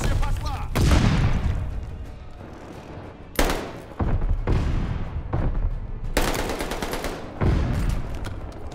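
A stun grenade in the Call of Duty Vanguard video game goes off amid loud bursts of gunfire, with sharp broadband bangs and blasts repeating through the stretch.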